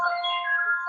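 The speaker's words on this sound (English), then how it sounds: "That's my phone." A mobile phone rings during a city tree board meeting, a steady electronic ring tone holding for under a second, clear and moderately loud with no voices over it.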